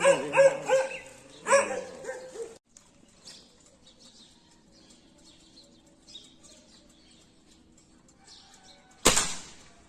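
A dog barks in a quick string of loud, close yaps at the start, then falls quiet over a faint background, with one more sharp burst near the end.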